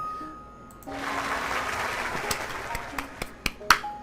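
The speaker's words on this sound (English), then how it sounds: "Everyone breaks down to applause. Oh, wow, applause." In a video game, a crowd bursts into applause for a character grinning on a stage, a broad swell of clapping that rises after a quiet start and thins into scattered claps and snaps toward the end.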